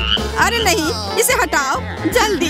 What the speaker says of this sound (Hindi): यह मेंढक है।